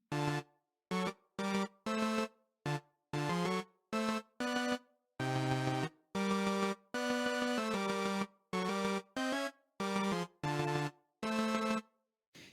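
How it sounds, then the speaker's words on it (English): Synthesizer notes from an arpeggiator play in choppy bursts of arpeggiated tones, sounding only while a key holds the gate open, starting and stopping abruptly in uneven groups, bright and buzzy, with silent gaps between. "you can only hear the sound of the arpeggio for as long as I open the gate"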